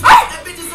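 A dog gives one short, sharp bark up close, with voices talking around it.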